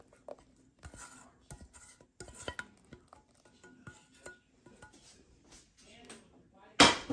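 Sure-Jell being stirred into hot strawberries and sugar in a pot, with irregular scraping and clinking of a utensil against the pot, fairly quiet, ending in a louder clatter.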